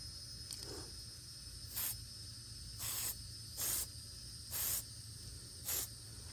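A spray paint can applies NATO Black to an airsoft helmet in five short hissing bursts. The bursts are fairly quiet and separated by pauses, over a low background hum.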